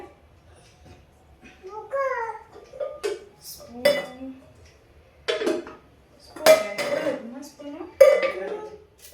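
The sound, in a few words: gold-coloured spoons clinking while being handled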